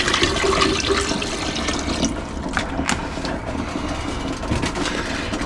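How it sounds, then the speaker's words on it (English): Tap water gushes loudly and steadily into a beaker holding gold-bearing debris from old transistors, a continuous close splashing rush with no speech. "I'm going to pour tap water into there"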